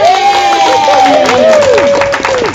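An audience at a recognition event claps for presenters as they stand, a loose patter of hands mixed with loud whooping and talking voices over the top.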